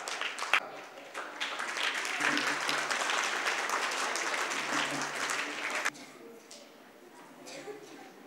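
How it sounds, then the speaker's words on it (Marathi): An audience at a Sant Gadge Maharaj birth anniversary ceremony claps in a loud, dense burst of applause that holds steady, then thins to scattered claps. "आपण सर्वांनी टाळ्या वाजवाव्या"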